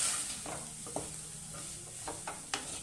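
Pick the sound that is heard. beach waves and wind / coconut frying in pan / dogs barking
coconut frying in pan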